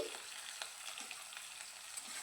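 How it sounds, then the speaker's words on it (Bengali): Thin-sliced potatoes fry in oil with black cumin, giving a soft, steady sizzle with light stirring scrapes, quiet and close. "কালো জিরেটা একটু ভাজা হয়ে যাবার পর আমি যে আলুগুলোকে পাতলা করে কেটে রেখেছিলাম সে আলুগুলো দিয়ে দিয়েছি"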